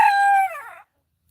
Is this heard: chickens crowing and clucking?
yes